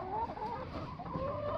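Chickens cluck close by in a backyard coop beside the nesting boxes, one pecking at a person's boots, making steady murmuring clucks with a few rising calls all the way through.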